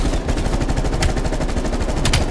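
Rapid automatic fire from a Groza assault rifle in Call of Duty: Black Ops Cold War, a loud continuous burst of closely spaced shots that runs throughout with no pauses.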